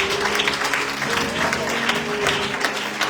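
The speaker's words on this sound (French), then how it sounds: "Acclame le Seigneur Jésus-Christ." A church congregation at a prophetic sermon breaks into sustained applause, a dense, loud, steady clapping from a large crowd filling the whole stretch, with voices mixed in.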